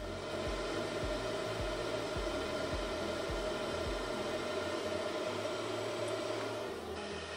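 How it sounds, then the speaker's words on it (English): A handheld air blower keeps a ping pong ball floating in its airstream, a steady close-up broadband rush with low repeating thumps and a slight change near the end. "So when I blow the ping pong ball up with this blower"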